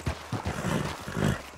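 A horse in Red Dead Redemption 2 snorts and huffs with heavy breathy pulses, a few close hoof thuds among them, heard alone without talk.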